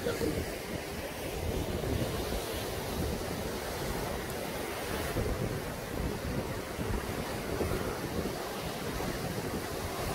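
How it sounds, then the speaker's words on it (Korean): Ocean surf breaks and washes continuously along the shore at Songjeong near Jukdo Park, a loud broadband roar mixed with gusting wind buffeting the microphone. "파도 굉장히 시원하시죠?"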